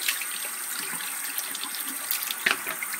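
Tap water runs steadily into a sink while an espresso machine's milk frother is rinsed clean, a constant close hiss with a brief splash near the end.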